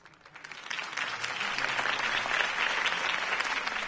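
In the Batman Telltale video game, a crowd applauds after Harvey Dent's campaign speech, a dense, steady wash of clapping that swells quickly and holds at full strength throughout.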